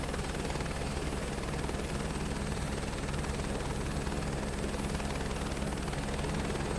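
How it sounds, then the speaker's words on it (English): A helicopter in a flight simulator game gives a steady, droning rotor and engine hum, loud and unbroken from start to finish with no voices over it. "I think the helicopters sound really good in this game."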